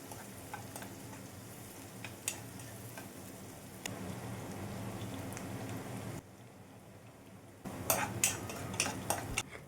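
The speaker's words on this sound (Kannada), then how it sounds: "ಇವಾಗ ನಾನು ಫಸ್ಟ್ ಈರುಳ್ಳಿ ಒಗ್ಗರಣೆ ಹಾಕ್ಕೊತಾ ಇದ್ದೀನಿ." Onion tempering fries in a pan with a soft continuous sizzle, broken by spoon taps and stirring clatters; the sizzle drops briefly before a louder burst of metallic stirring and crackling near the end.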